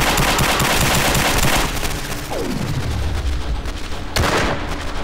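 Rapid gunfire in the zombie shooter SMOD Outbreak, a dense burst of automatic shots followed by a descending whoosh and another sharp loud blast, all close and loud with no talk.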